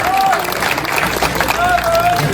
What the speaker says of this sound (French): Comme de tradition, vos applaudissements.